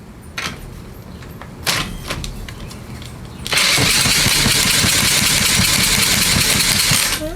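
An engine being cranked backwards by the starter during a compression test: a loud, steady cranking whir that kicks in partway through and runs on to the end, after some quieter clicks and handling noises.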